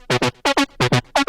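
Detuned synth lead for a future rave track plays a short stabbed pattern: four pairs of bright, buzzy chord hits with rich harmonics, loud and close, with brief gaps between pairs.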